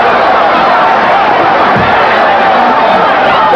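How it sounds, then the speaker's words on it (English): A loud boxing crowd roars steadily at the Thomas Hearns vs Ernie Singletary fight, cheering and yelling in a dense, unbroken wall of noise that stays strong from start to finish. "Listen to that crowd."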